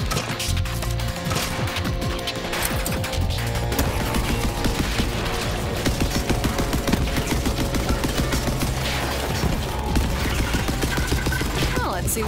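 Assault rifle fire in the video game Borderlands 3 rattles in dense, continuous rapid bursts over loud game action, sustained throughout.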